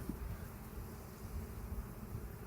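Honey bees buzz at a packed hive, a faint, low, continuous drone with no voices.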